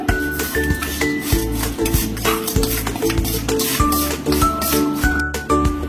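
Poppy seeds being stirred into a modak filling of jaggery, a steady close scraping and stirring texture that runs continuously over a bed of background music, with no talking.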